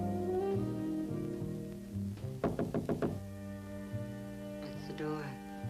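A rapid series of about six firm knocks on a door rings out briefly over a steady musical background in an older television comedy scene.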